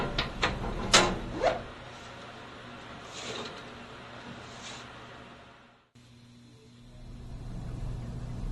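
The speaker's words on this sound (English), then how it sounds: "Push down the muffler with the palm of one hand while putting it into place with the other" The muffler of a Collectramatic fryer being pressed and fitted into place at the back of the unit. A few quick metallic clunks and knocks come at the start, then fade into a low steady background hum.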